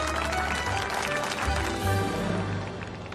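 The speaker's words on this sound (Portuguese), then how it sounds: "senhoras e senhores, queiram aplaudir a nova presidente da Sex Delícia, Marion Almeida." Audience applause from a crowd at a corporate ceremony welcoming a new company president, a steady dense wash of clapping that runs the whole time at fairly high level, with faint talk mixed in.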